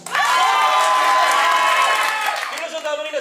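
A comedy improv festival crowd in Paris bursts into loud, sustained applause mixed with cheers and high shouts, voting for the prison option, then fades into scattered clapping and whoops.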